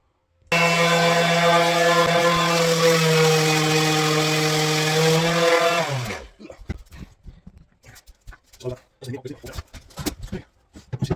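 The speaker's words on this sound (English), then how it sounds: "There you go, my multi-tool." A power multi-tool runs during kitchen renovation work, giving a steady, loud, buzzing whine for about five seconds. It then cuts off, leaving faint scattered knocks and handling noises.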